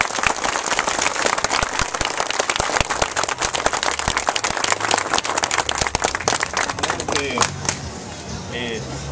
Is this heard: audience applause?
yes